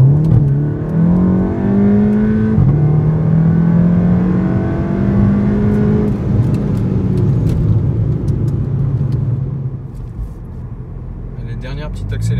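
An ethanol-fuelled Volkswagen Golf GTI accelerates in automatic sport mode S, engine pitch climbing through several gear shifts with a steady loud in-cabin drone and a brief easing near the end.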